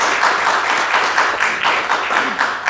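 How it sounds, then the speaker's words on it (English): Audience applause at a film festival Q&A session, a steady ripple of clapping from a modest crowd that rises and falls in waves over a few seconds, with no talking on top. "so we have a round of applause for all."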